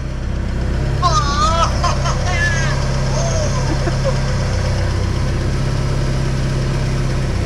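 A Mk3 Volkswagen Golf engine with an electrical fault drones loudly and steadily at a raised pitch, revving past 4,000 rpm, with voices talking over it early on.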